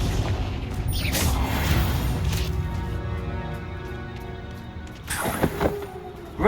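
A Confringo fire spell bursts in Hogwarts Legacy, a loud booming blast with crackling debris, then a second cluster of sharp impacts near the end over a continuous rumbling game soundscape.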